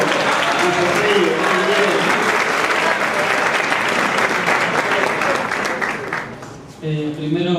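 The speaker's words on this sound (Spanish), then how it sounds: "Un aplauso para nuestro querido amigo." An audience at a question-and-answer conference in Posadas breaks into loud, continuous applause for a participant, a thick clatter of many hands that fades slightly before a voice begins speaking near the end.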